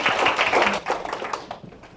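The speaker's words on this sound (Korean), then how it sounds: "여러분 뜨거운 박수로 맞이해 주십시오" A forum audience gives a warm round of applause to welcome a speaker: thick, close clapping that thins and fades out over a couple of seconds.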